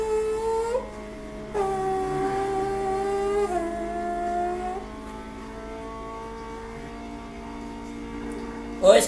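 Person vocally imitating a Formula 1 car engine while playing a racing video game, a sustained nasal whine sliding up and down in pitch through several gear-shift-like steps, close and fairly loud, ending with a short burst of voice.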